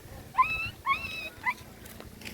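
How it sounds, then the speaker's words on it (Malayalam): Three short, high, wavering whines in quick succession, like a young dog whimpering nearby, with faint background noise between them. "പട്ടിക്കുട്ടിയുടെ ശബ്ദമൊക്കെ ഉണ്ടാക്കുന്നുണ്ട് ചങ്ങാതി"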